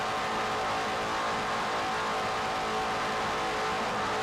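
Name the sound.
offshore racing powerboat engine passing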